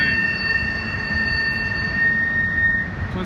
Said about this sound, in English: That's a pretty long train, huh?